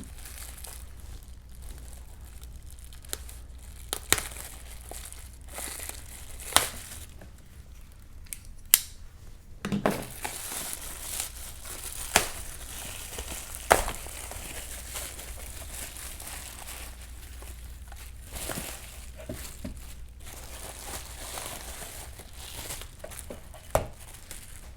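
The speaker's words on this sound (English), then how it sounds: "let's go ahead and cut into the bag and see what we have to work with" Scissors slice open a plastic shipping bag, giving sharp, scattered snips and crinkles over a quiet background, with a louder cluster of cuts partway through.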